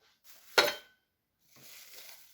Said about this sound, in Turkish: Şu tenceremiz. En büyüğü bu.